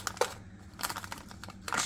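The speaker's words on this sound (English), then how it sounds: "just gonna grab the plastic bag" Soft, close crinkling of a plastic bag filled with frosting in irregular bursts, quiet rustles and crackles with short pauses between them.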